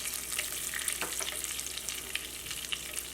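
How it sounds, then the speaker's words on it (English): Cumin seeds and asafetida sizzling in hot oil while being stirred, a dense, bright crackling hiss that stays even throughout, close and continuous with no talking. "Oil is ready. So first I am going to use the half a teaspoon of cumin seed. Stir."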